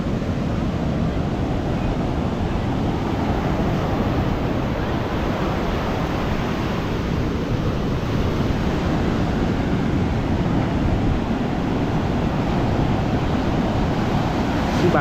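Ocean waves surging up a beach on a late afternoon, a steady broadband wash of surf with wind noise on the microphone, loud and continuous throughout with no distinct individual breaks.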